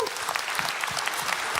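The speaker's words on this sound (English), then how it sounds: "Can we give Tim just a round of applause?" Crowd applause for a volunteer at an online community meeting, dense even clapping from many people heard briefly and continuously, with a faint voice underneath.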